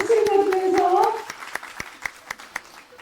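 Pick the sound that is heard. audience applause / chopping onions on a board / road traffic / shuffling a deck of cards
audience applause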